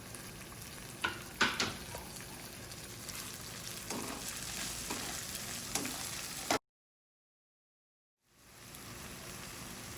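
Tomato and salt sizzle in a frying pan for kitchari with a steady hiss and a few stirring knocks, then a brief silence before the frying hiss resumes.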